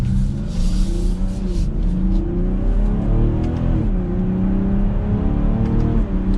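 A 2022 BMW X5 sDrive40i engine pulls hard under acceleration, its drone climbing steadily and then dipping as paddle-shifted gear changes come through, loud and continuous with road and wind noise and no talking.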